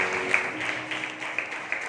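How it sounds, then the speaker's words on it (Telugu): A church congregation claps through a Sunday service, a continuous patter of many hands at moderate distance with a few sharper claps standing out. "చప్పట్లు కూడా దేవుని స్తుతించండి"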